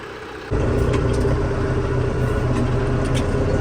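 A tractor pulling a three-furrow plough on black soil runs with a loud, steady diesel drone heard from inside the cab. The engine swells to full volume after a quieter first half-second.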